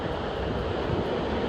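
Strong wind gusts over a dam in Yosemite, a continuous broadband rush of buffeting air against the microphone, loud and unbroken for the brief moment, with no speech.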